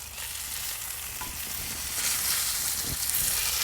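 A thick tomahawk ribeye steak sears on a Kamado Joe grill running around 500 degrees, giving a steady, close, full sizzle that swells slightly toward the end, with no voices.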